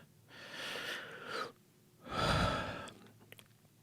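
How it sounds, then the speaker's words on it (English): Two slow, deep breaths close to the microphone, a long inhale followed by a fuller, heavier exhale, in a quiet room. "Nice big deep breath"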